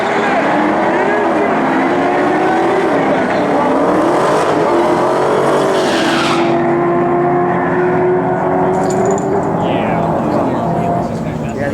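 2003 Ford Mustang Cobra drag racing against a Dodge Challenger Hellcat Redeye at a midnight event, heard as a loud, sustained engine roar that stays close throughout, with tire and crowd noise mixed in.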